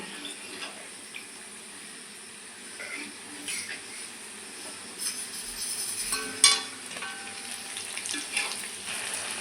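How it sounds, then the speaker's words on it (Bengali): Semolina rasmalai balls fry in a pan with a soft, continuous sizzle, fairly quiet and close, broken by a few sharper crackles midway. "এগুলো সবগুলো আমি একইভাবে ভেজে নেব।"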